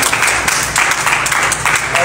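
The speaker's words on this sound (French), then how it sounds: "je veux que tu acclames. Acclame Jésus-Christ, acclame Jésus-Christ" A church congregation breaks into dense, sustained applause and cheering, a loud continuous wash of many hands clapping together, with voices mixed into the crowd noise.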